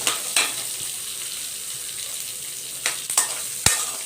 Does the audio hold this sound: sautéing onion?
yes